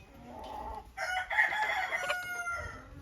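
A rooster crows once, loud and near, a long drawn-out call rising after a few soft clucks, with quiet farmyard background.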